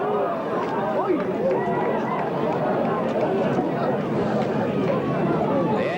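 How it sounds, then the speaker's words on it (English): A crowd hums with a steady murmur at a 1990 junior A county final in Gaelic football, a continuous dense babble with voices overlapping throughout. "You hear the buzz from the crowd with that one"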